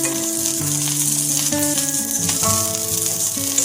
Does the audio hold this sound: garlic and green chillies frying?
yes